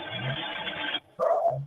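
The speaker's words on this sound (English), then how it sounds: "I believe it's at 42 seconds is the next single dog bark." A single dog bark heard outdoors at night, faint and distant, one short yelp after a brief pause in low background noise.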